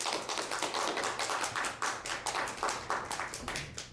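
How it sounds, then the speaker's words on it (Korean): A church congregation at a Sunday worship service claps together in a steady, fairly even rhythm, a dense and continuous run of hand claps heard throughout. "은혜가 되셔서 박수 한번 드립시다."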